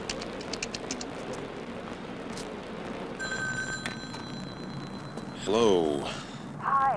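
A telephone rings in a quiet room with faint background hiss, giving a steady electronic tone for a couple of seconds before a voice cuts in briefly near the end.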